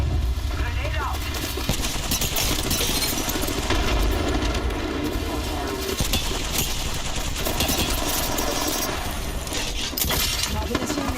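Dense gunfire and bursts from an Apex Legends match, with automatic weapon fire and impacts crackling continuously over a busy game mix while players call out under it throughout.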